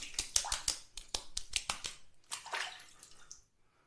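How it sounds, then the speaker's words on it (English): Water splashed onto a face before a wet shave: a quick run of close, sharp splashes and slaps in an uneven rhythm, followed by a few softer sloshes that trail off into quiet. "I'm just going to add a bit more water to my face"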